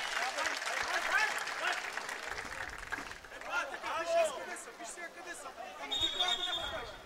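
Stadium crowd at a Romania versus Bulgaria friendly football match applauds Romania, a broad sustained wash of clapping and crowd noise, with a commentator talking over it throughout.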